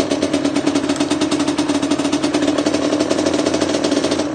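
A Gilera SMT motorcycle engine under restoration runs at a steady fast idle, its small two-stroke putter pulsing evenly and loud, close and alone throughout.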